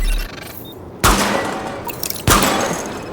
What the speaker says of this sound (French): Lancement du test de l'armement. Tirez sur les cibles en surbrillance.